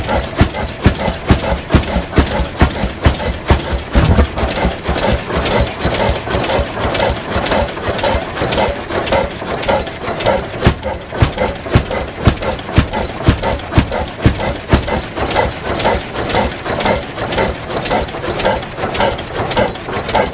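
A rare one-cylinder Rumley engine runs steadily at an antique show, a continuous mechanical chugging with rapid regular firing beats and clattering valve noise, close and loud throughout with no talk.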